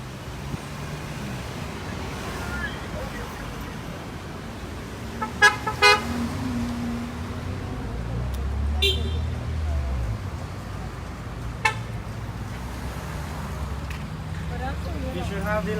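Car horns toot in short bursts amid steady traffic at a street protest outside the Prime Minister's office, several separate honks over a rumbling road noise while people talk nearby.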